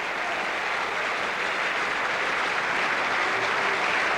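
A rugby crowd at a match between Eagles and Widnes applauds a player leaving the field, dense sustained clapping filling the stadium evenly throughout without a break.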